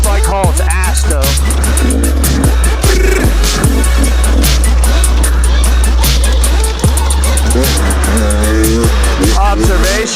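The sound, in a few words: motorcycle riding at speed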